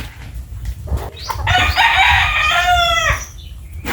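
Backyard chickens at feeding time give one long, loud, rising call that bends down at the end, with quieter clucks and rustling around it. The birds are close and no one speaks.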